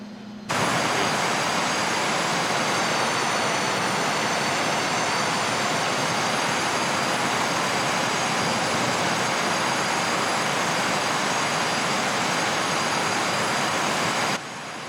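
DC Designs F/A-18 Super Hornet jet engine in a flight sim, a loud, steady roar with a high whine held evenly for the whole stretch and no talking.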